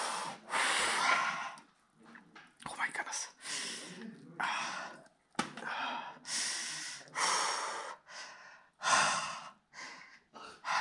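A swimmer breathes heavily at a sea cave on the coast of Mallorca before jumping into the water: repeated deep, forceful inhales and exhales in close, uneven bursts with short pauses between them.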